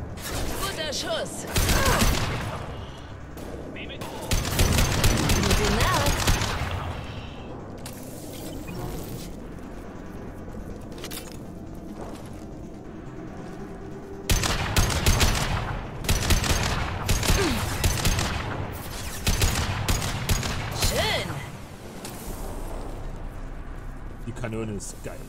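Bursts of rapid gunfire and mechanical weapon clatter from the video game Mass Effect 2 come in several loud clusters, close and sharp, mixed with game voices and player talk.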